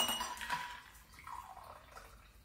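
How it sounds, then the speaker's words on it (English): Shaken gin with ice and fresh blueberries poured from a cocktail shaker into a glass, a quiet liquid splash with a few light clinks of ice against glass, heard close and alone. "I have in my shaker some fresh blueberries, ice, and a double shot of MurLarkey Imagination Gin. And I'm going to pour that into a glass."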